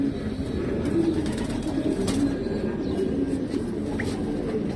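A female pigeon of an old bloodline coos in low, rolling, repeated phrases over steady background noise, close and continuous.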